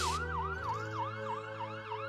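Cartoon ambulance siren wailing in a steady rising-and-falling cycle, loud and close, with a brief burst of noise at the start and no voices.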